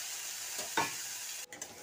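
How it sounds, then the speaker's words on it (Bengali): Ground spice paste frying in mustard oil with a bay leaf in a wok, a soft steady sizzle with a couple of brief stirring scrapes, close and alone. "মশলা দিয়ে আমি এবার কষিয়ে নিচ্ছি"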